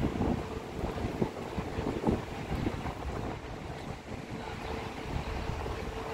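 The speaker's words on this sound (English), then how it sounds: "at this moment, it is kind of windy" Steady wind gusting outdoors in Chicago, buffeting the microphone with low rumbling roar throughout, loud and continuous with no voices.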